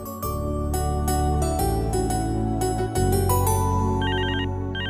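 A phone ringtone plays loudly and steadily with a bright, repeating melodic pattern, shifting to a higher warbling figure near the end, with no talk over it.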